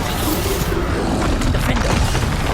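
Bombarda blasting spells exploding in Hogwarts Legacy, a dense, loud wash of booming crashes and rumbling debris that carries on without a break and no clear pauses between blasts.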